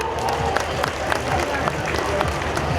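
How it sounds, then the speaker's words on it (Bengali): Audience on the left side of a police cultural programme celebrating the monsoon season claps together, a busy mix of hand claps and crowd murmur with scattered sharp claps standing out, fairly close and sustained. "এইদিকে আমাদের বাঁ দিকে যারা আছেন তাদের কাছ থেকে একটা করতালি চাই।"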